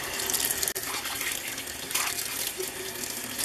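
Tap water runs steadily over a cast iron pan being rinsed in a sink after scrubbing with a Brillo pad, a continuous close hiss and splash with a brief dip near the start.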